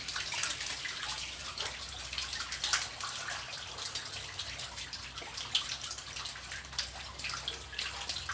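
Water runs steadily into a tub as the water is changed, a continuous splashing rush with occasional drips, fairly close and unbroken by any talking.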